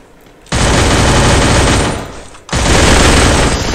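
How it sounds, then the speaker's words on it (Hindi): Vector submachine gun fire in an action video game, two long, loud, continuous full-auto bursts with a brief gap between them, dense and harsh, close and without voices. "अरे यार वेक्टर का लगता है फायर रेट ऑसम है, तभी इसने मेरे को इतना मार दिया भाई"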